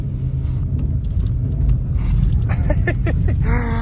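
Cupra Formentor VZ5 engine on the move, a low steady rumble inside the cabin with road noise while a voice talks over it in the second half.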